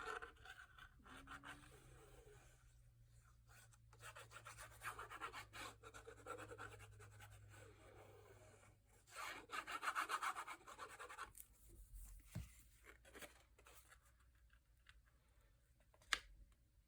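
An eraser rubs away pencil marks on paper in close, quiet bursts of scratchy scrubbing, starting and stopping several times with brief pauses and a sharp tap near the end.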